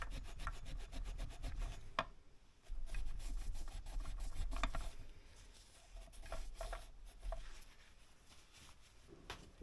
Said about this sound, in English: I cleaned the top of my piston and just used some Scotch-Brite and some W40 and just wash it off.